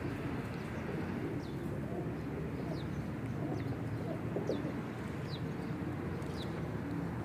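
Pigeons coo softly and steadily in a loft, low murmuring calls blending into a constant bed of background noise, with faint chirps scattered over the top.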